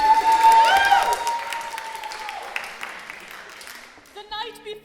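An improv theatre audience claps and cheers to vote for a story title, a loud burst that fades over a few seconds, with a whistle-like tone early on and a short voice or tone at the end.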